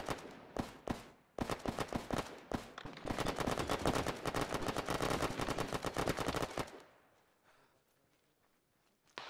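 Rapid automatic gunfire in ArmA 3 combat: loud, dense bursts of shots cracking in quick succession, then a sustained heavy volley lasting several seconds before cutting off to quiet background.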